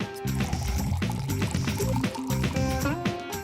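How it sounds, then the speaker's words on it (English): Thick juice from mashed grated coconut and water is squeezed through a cloth into a bowl, a close, continuous wet trickling and dripping with soft squelches. "and squeeze the thick juice out"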